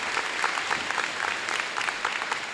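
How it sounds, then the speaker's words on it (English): Steady crowd applause for a valedictorian at a Harrison Park Challenge Scholars ceremony, dense and even for its short span with no voices. "Can we give a round of applause for Juan Gonzalez"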